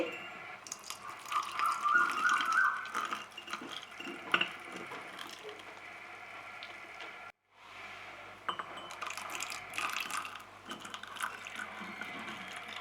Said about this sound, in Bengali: এবারে আমি এর মধ্যে ফুটন্ত দুধ অ্যাড করে দিচ্ছি